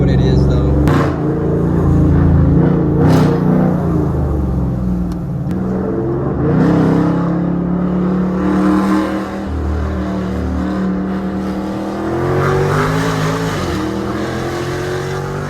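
A Dodge Charger R/T with a loud aftermarket exhaust is driven and heard from the cabin. The engine drones steadily and swells as the car accelerates, with someone talking over the exhaust much of the time.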